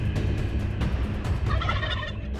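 Osceola wild turkeys gobble back and forth in the woods along a fence line, several overlapping rattling calls, some moderately close and others more distant, with a steady outdoor background and no talking.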